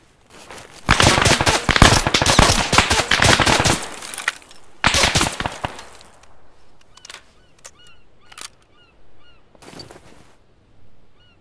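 Loud, rapid automatic gunfire in the Arma 3 Antistasi military video game, two long dense bursts followed by sparser single shots and distant cracks fading out.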